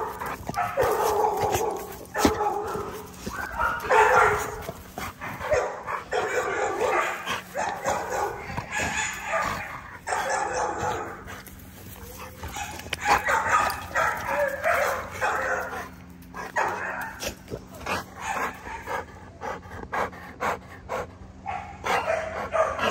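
A litter of puppies barks, yips and whimpers nonstop in busy overlapping bursts close to the microphone, with brief pauses in between.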